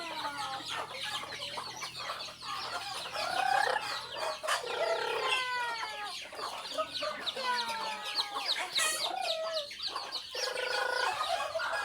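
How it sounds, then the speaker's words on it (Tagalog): Free-range chickens at a rural home cluck and squawk close by, a busy run of overlapping calls with rising and falling cackles and a short rooster-like cry, over faint background noise. "Ito po ang mga manok."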